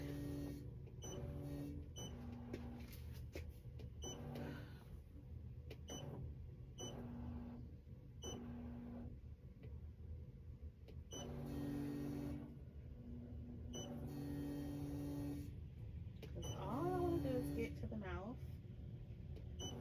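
An embroidery machine stitches a glitter HTV reindeer design onto a T-shirt, running in steady rhythmic bursts of mechanical whirring with short pauses between them, while a person talks quietly over it.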